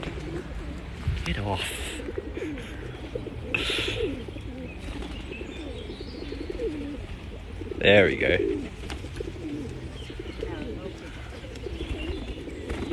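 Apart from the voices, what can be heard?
pigeons cooing in London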